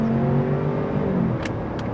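A 2026 Ford Expedition Platinum Ultimate luxury SUV accelerating hard under full throttle, a steady rising engine and road roar heard from inside, loud and continuous with no talk.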